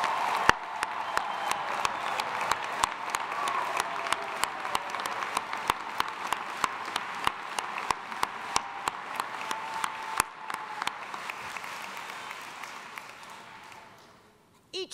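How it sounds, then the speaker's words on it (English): A crowd at a college arts and sciences commencement ceremony applauds the graduates, a sustained wash of clapping with sharp individual claps standing out, fading away near the end. "join me one more time in giving these graduates a round of applause"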